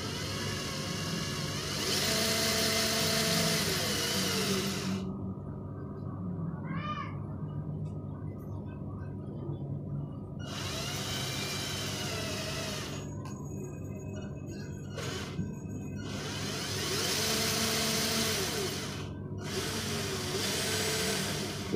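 An electric-converted RC Fuso truck runs at top speed in second gear, its motor giving a whirring whine that rises and cuts out in several bursts across the clip, heard close with pauses of near silence between runs.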